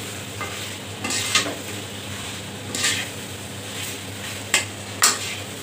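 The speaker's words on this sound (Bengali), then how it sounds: "এখন মাংসটা দিয়ে কষিয়ে নেব।" Chicken pieces being stir-fried with spices in a pan for a spicy Bengali chicken curry: a steady low sizzle broken by a few sharp stirring scrapes and utensil clanks, close and without speech.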